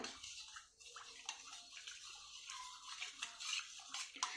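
Two spoonfuls of detergent powder are stirred into water, giving a wet swishing and clinking of a spoon against a container, with soft splashes and scrapes in an irregular rhythm, close up and alone.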